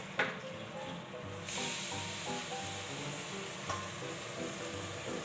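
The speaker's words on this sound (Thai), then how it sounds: "เราจะเอาหมูลงกระทะนะครับ" Pork sizzles and fries steadily in a hot pan, a continuous close hiss with a sharp crackle as the meat goes in and occasional spatters, no voices over it.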